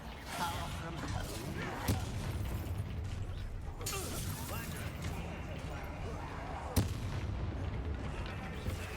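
Bombarda spell explosions in Hogwarts Legacy, a string of heavy booming blasts and rumbling impacts, with sharp peaks near two and seven seconds, over a dense game soundscape while a person talks.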